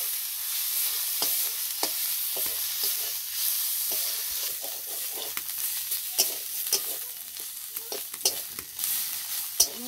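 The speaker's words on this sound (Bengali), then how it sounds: "ভালো করে নাড়ব।" Chopped ghetkol (taro) stirred as it fries in a pan: a steady sizzle with repeated scraping strokes of the spoon, close and clear, and no speech.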